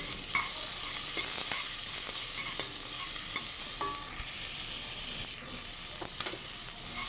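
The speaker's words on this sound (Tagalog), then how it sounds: "Magluto tayo ngayon guys ng ginataang shell" A pot of ginataang shell, shellfish simmering in coconut milk with squash, long beans and moringa, is stirred over a hissing bubbling boil, with a utensil scraping and clinking against the pot every second or so.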